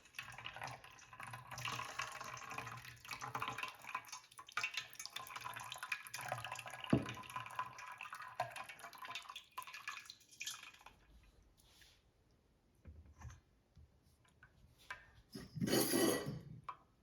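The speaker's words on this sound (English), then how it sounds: "we strain the curds off from the whey" Whey drains through a strainer from fresh cheese curds in a close, splashy trickle that thins out halfway through. A brief louder burst of pouring water follows near the end.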